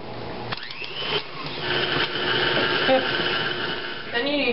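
An electric mixer whirs steadily through icebox cookie batter, a continuous motor drone that shifts slightly in pitch as it works, close and fairly loud, with a brief clatter near the end.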